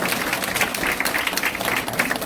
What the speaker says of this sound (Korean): 한 박수 한번 쳐주실까요?